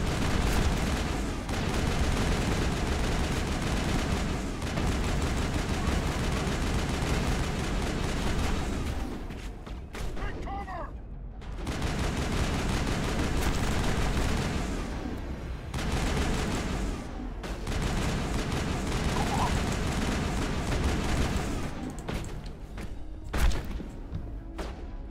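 Sustained gunfire in the Mass Effect 1 video game, dense bursts of shots and thuds filling most of the stretch with brief lulls, loud and close.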